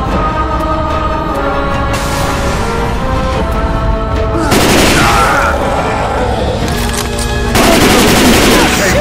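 Bursts of automatic gunfire fire on the Tank in the Left 4 Dead 2 video game. The shooting is loud and dense, pausing briefly and then swelling again in heavy volleys.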